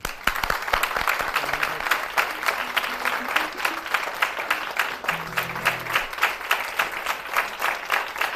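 A studio audience claps steadily for a Bosnian fado singer on a television afternoon show, with continuous, even applause and brief faint tones beneath it.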